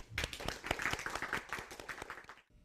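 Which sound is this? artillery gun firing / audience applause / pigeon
audience applause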